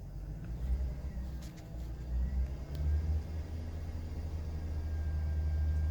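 A 2005 Chevrolet Silverado engine idles after camshaft and crankshaft sensor replacement, a steady low rumble that grows slightly louder over time, heard nearby without speech.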